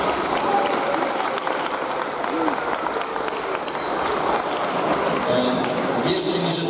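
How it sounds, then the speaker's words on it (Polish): An audience at a carnival ball in Rożental applauds, a thick continuous roar of many hands that holds at an even loudness from start to finish with no talk. "Po powitaniu można klaskać."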